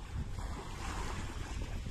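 Sea waves wash onto a shore along an everyday walking route, a steady broadband rush muddied by gusty wind buffeting the microphone, with no talking.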